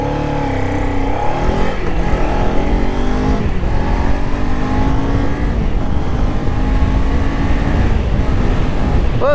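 A Kawasaki Z500 roadster pulls away from a standing start, its engine revving hard and climbing through several gear changes. The sound is loud and close throughout, with no voices.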